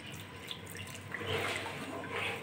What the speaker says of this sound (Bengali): আর একটু জল হবে, তার জন্য একটু জল দিয়ে দিলাম